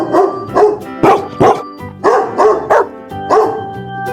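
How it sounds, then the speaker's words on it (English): A farm dog barks repeatedly at close range, about eight loud, sharp woofs in an uneven rhythm with short gaps between them. "Dog."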